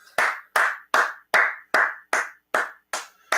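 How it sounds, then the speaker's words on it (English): Nine sharp hand claps in a steady, even rhythm, close and loud with no voices between them, at a pub watch party for the Arsenal versus Liverpool Premier League match in a chilly room with the windows open. "let's just keep clapping"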